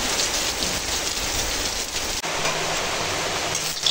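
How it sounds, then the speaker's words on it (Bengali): Heavy rain pouring down in a steady, dense roar of drops hitting surfaces, loud and unbroken over a few seconds, with no voices. "দেখো না অঝরে বৃষ্টি ঝরে যাচ্ছে, যেন সাদা হয়ে গেছে দুধগুলো, দেখো এত বৃষ্টি।"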